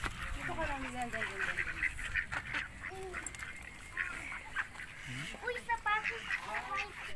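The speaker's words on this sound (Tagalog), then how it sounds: "Duck is eating." Ducks quack repeatedly on a farm in Tagaytay, a run of nasal honking calls close by, mixed with a voice and other people talking.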